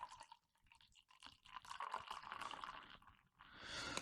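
St Peter's stout from Suffolk pours into a glass in a faint, close, fizzy gurgle and splash, swelling at the end as the beer is agitated to build a head; no talk.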